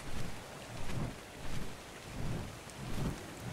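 Steady rain in the video game Ark, a dense wash of hiss with soft rolling low rumbles swelling at regular intervals, no voices.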